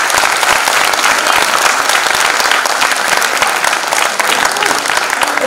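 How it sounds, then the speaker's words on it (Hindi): A theatre audience at a comedy play gives the actors loud, sustained applause, a dense, even wash of clapping from many hands that never lets up. "इन सब कलाकारों के लिए एक बार फिर से जोरदार तालियां।"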